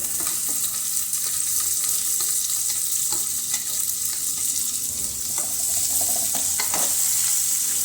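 Onions frying loudly in a pan with ginger and garlic, a dense, steady close-up sizzle broken by the scrapes of a stirring spoon, with no one talking.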